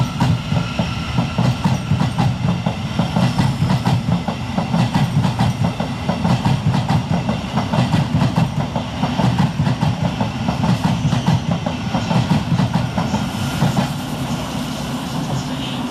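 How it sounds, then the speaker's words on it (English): A Thameslink Class 700 electric train pulls out of Farringdon station on a Three Bridges to Bedford service, its wheels clattering in steady rhythmic clicks over the rail joints as it rumbles past nearby. "Next out of the station is 700 107, working the 1001 via Thameslink service from Three Bridges to Bedford."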